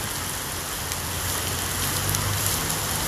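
Heavy rain pours down in a dense, steady hiss, close and loud with no voices, slightly swelling toward the end.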